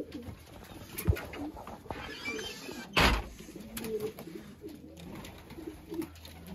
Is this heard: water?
no